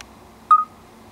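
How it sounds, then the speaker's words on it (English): A Samsung Galaxy S4 phone camera gives a single short, clear electronic beep as video recording starts, heard alone against quiet background hiss. "Now when I press record, you'll hear a beep."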